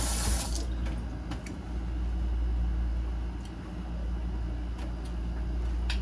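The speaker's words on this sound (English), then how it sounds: "Wash my hands." A kitchen tap runs steadily while hands are washed beneath it, a loud, continuous rush of water close by with a few faint clinks and no talking.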